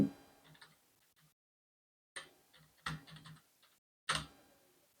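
Scattered keystrokes click on a computer keyboard while a name is typed, with short bursts of taps separated by silent pauses.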